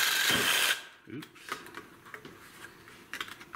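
A power saw with a wood blade cuts into a PlayStation 2 plastic case, giving a loud, harsh buzzing whine for under a second, then uneven scraping, rattling and clattering bursts at lower level.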